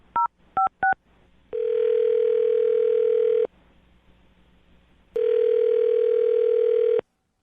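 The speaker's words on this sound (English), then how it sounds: "we'll dial her phone number right now, see if she answers" A telephone call from a morning radio show: three quick dialing beeps, then two long, steady, loud tones separated by a short silence.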